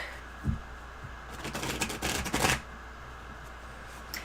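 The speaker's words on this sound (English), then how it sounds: "What is the chances I'm going to be able to shuffle these? They're very slick." A slick, slippery deck of colorful tarot cards is shuffled by hand, giving a quick burst of close riffling and flicking that builds and stops over about a second, with softer handling taps before and after.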